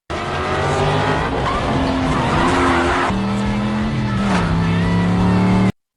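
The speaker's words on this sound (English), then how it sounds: "Driver starts the car to head somewhere" A car's engine roars steadily and loud as it pulls away, revving with a squeal of tires throughout, under a layer of music.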